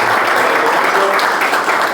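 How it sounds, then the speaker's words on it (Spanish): An audience at a live talk applauds after the speaker finishes, a dense, loud burst of clapping from many hands, steady throughout with no voices. "Bueno, un aplauso para Juan."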